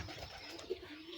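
Foreign fancy pigeons kept as pets in a bamboo and wood loft give a soft, low coo with one brief louder note, heard close against steady background hiss.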